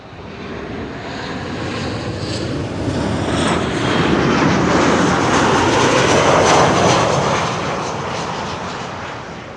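A Transavia airliner on approach to runway 06 at Amsterdam Schiphol roars past outdoors, a broad loud jet rumble that swells to a peak midway and then slowly fades.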